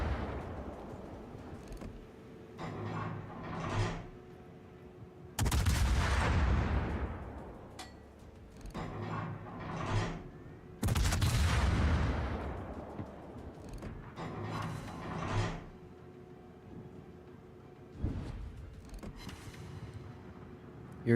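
Heavy naval gun salvos from warships in World of Warships, with loud booming broadband blasts roughly every few seconds, several rolling together, over a steady low engine and ambient hum.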